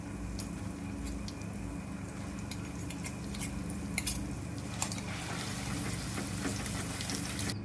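Garlic paste frying in hot oil in a pan for spicy egg garlic rice, with a steady sizzle and occasional light clinks of a spoon against the pan.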